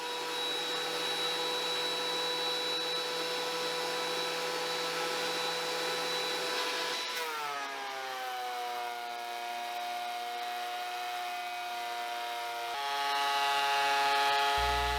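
A thickness planer feeds heavy wooden boards during flattening of large slabs, a steady loud whine that drops in pitch as the cutter loads up partway through and stays strained, then rises near the end.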